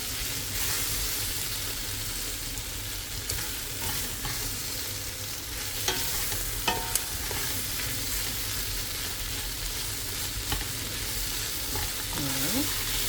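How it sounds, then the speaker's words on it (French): Tomato concentrate and vegetables are stirred in a pan for fish soup, a loud continuous frying sizzle with scraping spoon strokes and occasional clinks throughout. "je vais remuer avec les légumes"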